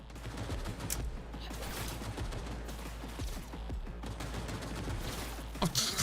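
Rapid gunfire in Cyberpunk 2077, dense bursts of shots rattling almost without a break at a moderate, fairly faint level, with a few sharper cracks standing out near the end.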